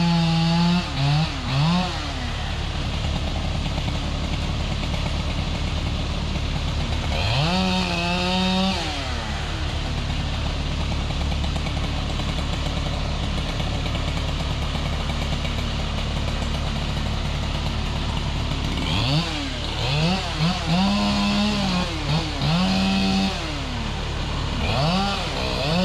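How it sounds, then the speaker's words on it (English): A chainsaw roars continuously and loudly while cutting down a huge tree in a backyard, the engine revving up and down in repeated surges over a steady idle. "going to cut this huge tree down with his chainsaw"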